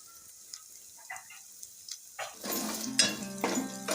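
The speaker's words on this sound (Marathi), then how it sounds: "अशा प्रकारे तेलामध्ये चांगले मसाले फ्राय करून घ्यायचे आहेत" Malvani masala with coriander powder fries in hot oil in a pan for a village-style mutton curry; after a few quiet clinks, a soft sizzle rises midway, with spatula scrapes and stirring over it.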